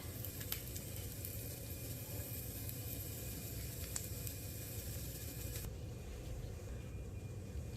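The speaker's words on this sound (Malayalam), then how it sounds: "അപ്പോൾ അതിലേക്ക് 2 ഗാർലിക് ചോപ്പ് ചെയ്തിട്ട് ഇട്ട് കൊടുക്കാം" Chopped garlic sizzling in butter in a pan for crispy mussels, a steady, soft hiss with small pops and crackles, heard alone with no talk.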